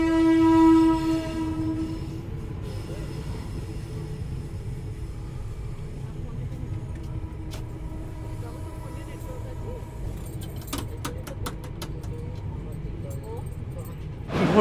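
A passenger train on the Howrah–Kalka Netaji Express rolls into platform 1 at Kanpur Central with a brief horn at the start, a steady rumble of wheels, and clanks and squeals as it slows.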